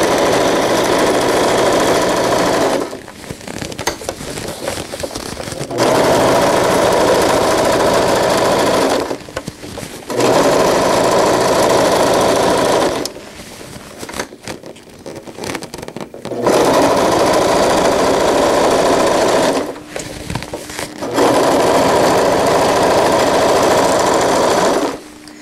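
A sewing machine top stitches a zippered wetbag in loud, steady runs of rapid whirring, each lasting a few seconds and broken by short pauses, with no talking.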